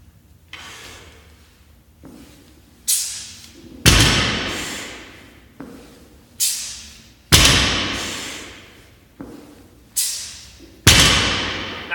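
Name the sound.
barbell thudding on the floor during dead stop deadlifts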